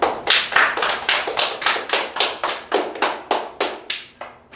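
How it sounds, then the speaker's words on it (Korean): A classroom of students clap together in a quick, even rhythm, about a dozen sharp claps that stand out clearly and trail off at the end, with no talking over them. "왜 박수야?"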